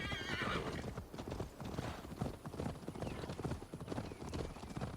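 Horse hooves in Assassin's Creed Valhalla, the mount being Sigurd's horse: a rapid, steady clip-clop of galloping hooves with a neigh near the start, quiet and continuous under game ambience, with no talk.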